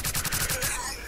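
Rapid bursts of gunfire from S.T.A.L.K.E.R. Call of Pripyat, a game shooter, firing several quick rhythmic shots loud and close, then trailing into a fading echo with no talk.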